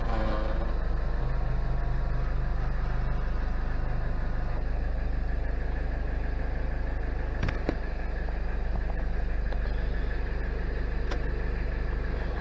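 A 1991 Toyota Land Cruiser Prado idling nearby, a steady, even low engine drone with no revving, with one brief click partway through.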